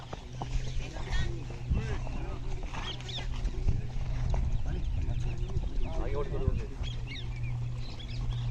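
A mare walking in a show-jumping training session, her hooves clip-clopping in a steady rhythm under continuous talk from a trainer, with a low steady hum in the background.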